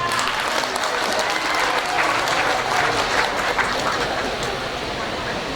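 A crowd at a regency candidates' debate in West Aceh applauds steadily after a candidate pair finishes speaking, a dense, even wash of clapping that holds for several seconds at moderate volume.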